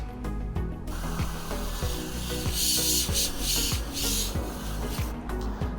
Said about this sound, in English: Let's see if this pressurized keg can actually act like a pressure washer.